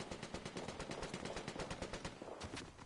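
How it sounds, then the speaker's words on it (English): Rapid bursts of automatic gunfire in Fortnite rattle continuously, loud and close, with dense repeating shots and no talking. "I guess we'll go towards the gunshots."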